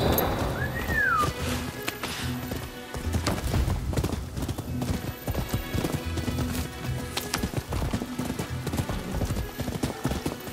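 Steady rhythmic clip-clop of horse hooves trotting along in the video game Rise of the Ronin, with a brief whinny near the start and occasional voices in the background.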